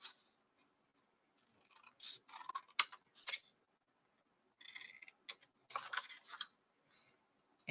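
Scissors snipping the corners of paper pages in a December Daily photo-booklet album, giving several short sharp cutting bursts in quick groups with quiet pauses between, close and crisp, no talking.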